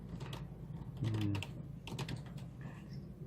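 Fingers type on a computer keyboard, entering figures into a form, giving a quick run of light, close clicks with a brief low hum partway through.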